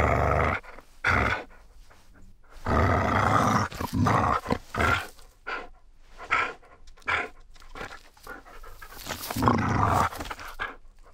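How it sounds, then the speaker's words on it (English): Dog growling recorded as a foley effect for the video game Hytale: a series of rough, throaty growls and snarling bursts with short pauses, close and fairly loud, with no talking. "we're going to get a dog growling clip"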